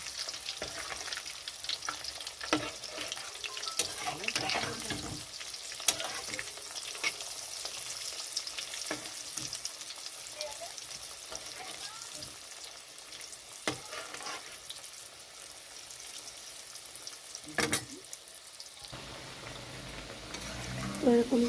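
Banana flower dhoka pieces frying in hot oil for mochar dhoka, a soft, steady sizzle with occasional stirring clinks and louder bursts, fairly quiet and close.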